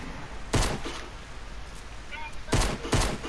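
Video game gunfire, two loud bursts of rapid shots spaced a couple of seconds apart over a steady background rumble, with faint voices underneath.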